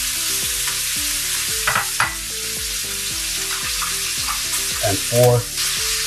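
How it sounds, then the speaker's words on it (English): Butter with a sprig of rosemary sizzles and bubbles in a hot pan for a steak, a steady crackling fry with occasional spattering pops and stirring scrapes, one brief spoken word. "you can see the butter starts to bubble"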